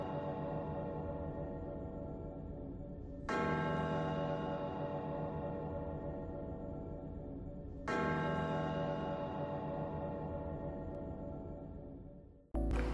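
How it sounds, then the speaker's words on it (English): Two deep bell strikes from the One Piece anime's Sky Islands arc, each swelling suddenly and ringing out in a long, slowly fading resonant hum, the second arriving about four seconds after the first, alone with no talk. "there's something very almost haunting about the sound of that bell now that I'm really listening to it"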